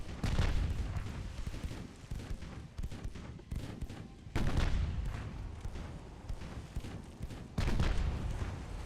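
Rear gun turrets of a warship in Ultimate Admiral Dreadnoughts fire in heavy, booming salvos, with several loud blasts and rumbling echoes spaced over a few seconds.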